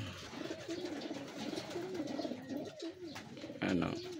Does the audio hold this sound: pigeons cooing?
yes